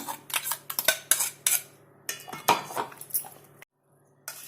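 A spoon scrapes and clinks against a metal pot while paste is stirred into Hyderabad red chicken curry, in a quick run of sharp metallic strokes that stops briefly near the end and then resumes.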